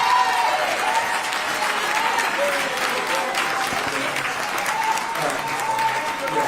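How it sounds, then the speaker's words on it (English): A crowd at a village board meeting gives a sustained round of applause for the mayor, dense steady clapping throughout with faint voices mixed in underneath. "we want to ask everybody to give a round of applause to Mayor Lightfoot for her hard work"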